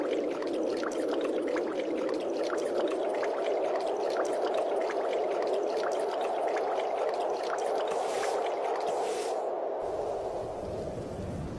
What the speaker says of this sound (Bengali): বলতে না বলতে দেখছি বৃষ্টি চলে এসেছে।